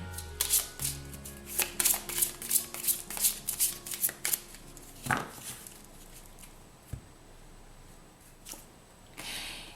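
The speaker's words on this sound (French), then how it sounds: "ce sera avec l'oracle des êtres d'ombre et de lumière" Oracle cards shuffled by hand in rapid rhythmic riffles, about a dozen crisp close bursts over several seconds, then a few slower taps and quiet handling.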